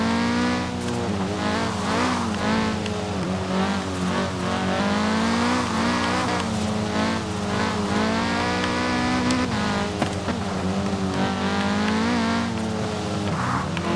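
A 2015 Audi TTS Coupe with a race build in Forza Horizon 4 drones steadily with engine revs rising and falling through gear changes, plus occasional tire squeal, loud and continuous with no talking.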